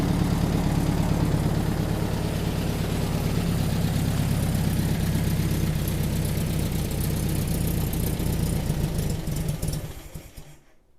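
A freshly rebuilt air-cooled 40HP VW engine runs on its first start, a steady loud low rumble that holds for about ten seconds and then dies away to silence as it shuts off.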